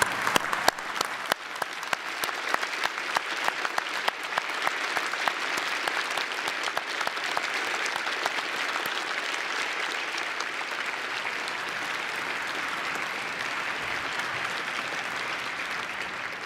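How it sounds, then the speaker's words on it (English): Graduates at the 2021 Temple University Beasley School of Law commencement applaud. A few sharp, separate claps quickly build into a long, even roar of many hands, moderately quiet and heard from a distance, continuing without any voices. "Graduates, would you please join me in a round of applause thanking those who have supported you on your journey"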